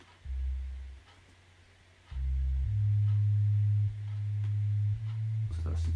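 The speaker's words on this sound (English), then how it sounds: "that's just a sine wave." Low, pure synthesizer tones hum in steady sustained notes, shifting pitch a few times with brief gaps, smooth and gentle with no voices.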